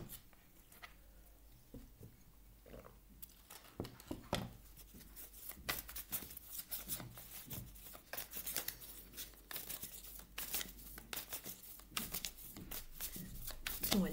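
Small tarot cards handled and set aside on a table. Soft papery rustles, taps and slides come close and irregular throughout, with no voice heard.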